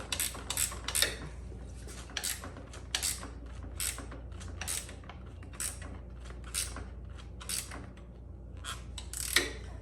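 Tightening the top triple tree clamp bolt on a 2014-2020 Harley-Davidson Street Glide fitted with polyurethane bar bushings: rapid metallic ratchet clicks in repeated bursts, close and steady, with a low mechanical rumble underneath.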